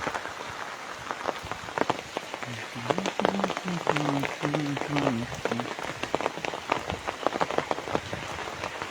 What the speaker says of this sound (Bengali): যেভাবে বর্ষা শুরু হয়েছে মনে হয় না থামবে না, এভাবে সারাদিন হয়ে যাবে।